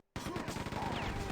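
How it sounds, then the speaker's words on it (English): Chain gun fire in the video game Quake 2, a fast continuous rattling burst of rapid shots that starts abruptly and holds steady, loud and close, during a tournament match. "that defense with the chain gun"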